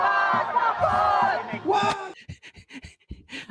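Protesters shout and chant together in a loud, rough burst of crowd voices for about two seconds, then breaks off into scattered shorter cries and calls.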